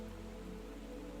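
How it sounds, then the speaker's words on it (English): Rain pours steadily outside a pottery studio at night, a short unbroken hiss of falling water with no voices, even and moderately close. "Rain was falling more steadily now"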